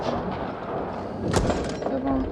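A tank cannon round striking the player's tank in World of Tanks Blitz lands as one sharp, loud impact thud midway, set against steady battle noise with a hint of engine rumble.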